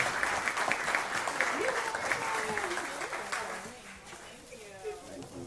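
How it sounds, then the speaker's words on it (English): An audience claps warmly for the mayor at a San Antonio DreamWeek commencement ceremony, steady applause near the start that thins out and fades, with a voice talking over it. "round of applause for our Mayor"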